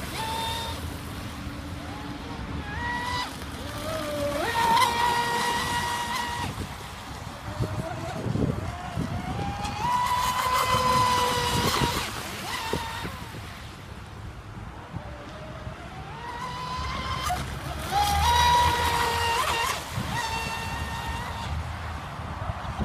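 Outboard motor on a boat pushed by a TFL Pursuit 5s propeller drones steadily at high RPM over constant wind and water noise, its pitch rising and falling in waves while the boat runs.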